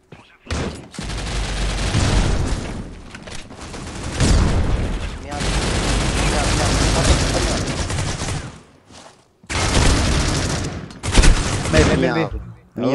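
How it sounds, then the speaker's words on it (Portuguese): Gunfire in the Critical Ops mobile shooter game, loud bursts of rapid automatic shots in several long volleys separated by short quiet gaps, with players' voices occasionally audible. "Eu dei uns dois tiros nele."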